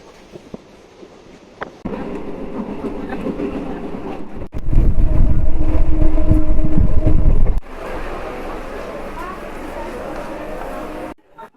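Interior of a moving, fairly empty local train heading to Bali station near Kolkata's Eco Park: a continuous rattling rumble that swells louder mid-clip, then settles, with brief bangs at the section changes.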